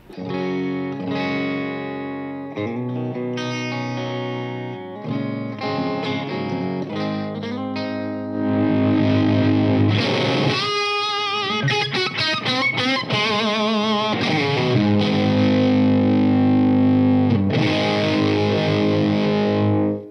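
Overdriven electric guitar chords through an Orange Guitar Butler pedal ring out, the crunch softening and cleaning up as the guitar's volume knob is rolled back, then a busier, louder distorted strumming passage follows.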